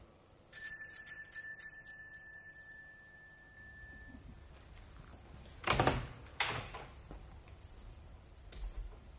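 A bell rings at a school director's office door, a bright sustained electric ring lasting a few seconds, followed by the door rattling and thumping open.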